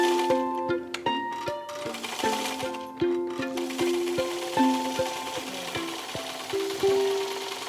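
A sewing machine stitches along the edge of a pleated fabric face mask in rapid, rhythmic bursts of clattering needle strokes with brief pauses, fairly close and clear over music playing in the background.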